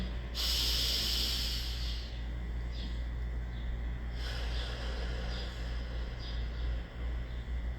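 A slow, deep breath is drawn in through the nose with a hissing rush, then eases out softly, close to the microphone.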